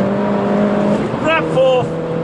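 Mini racing car engine held in third gear through a corner on a track, a steady droning hum running throughout with talk over it.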